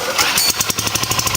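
A small gasoline engine on a student bench-top dynamometer is pull-started, a brief rasp of the starter giving way to rapid, evenly spaced firing pulses that settle into a running putter.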